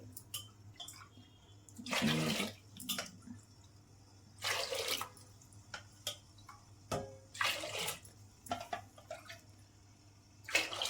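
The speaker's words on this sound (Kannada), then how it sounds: "ಇವಾಗ ನಾನು ಒಂದು 6 ಕಪ್ ಅಷ್ಟು ನೀರನ್ನು ಸೇರಿಸ್ಕೋತಾ ಇದ್ದೀನಿ" Water is poured into rice and lentils for pongal in a series of separate splashing bursts, each a few seconds long, with quieter trickles and drips between them.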